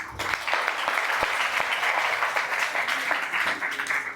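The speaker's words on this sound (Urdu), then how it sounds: "پھر تالیاں بجا لو اپنے سے." A church congregation breaks into sustained applause during a sermon, dense clapping filling the room steadily from start to finish.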